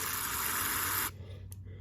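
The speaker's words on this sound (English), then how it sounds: "Spray a little bit through the fuel inlet." Carburetor cleaner sprays from a can through a straw into the fuel inlet of a Briggs and Stratton carburetor, a steady close hiss lasting about a second before cutting off, then a couple of brief faint spurts.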